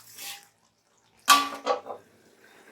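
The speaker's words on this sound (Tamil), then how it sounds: "இப்போ நம்ம மூடி போட்டுடலாம்." A lid is set on a clay pot of simmering village-style dried-fish curry: a sharp clattering contact followed by a couple of softer knocks and scrapes, close and fairly loud after a brief faint stir.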